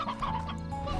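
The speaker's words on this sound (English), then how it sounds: "There's one of the hens." A hen clucks in the video game Slime Rancher, a few soft rapid clucks close by against a low background hum.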